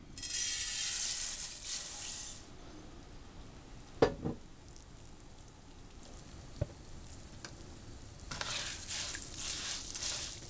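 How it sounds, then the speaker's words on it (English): Dry white rice frying in oil in a pan on a stovetop at medium heat for Mexican-style Spanish rice, a soft steady sizzle with occasional clinks and stirring scrapes, faint and close. "what we're going to do is fry the dry white rice"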